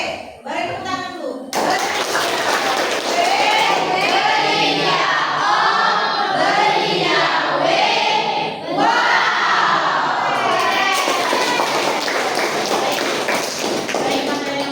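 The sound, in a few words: audience applause and cheering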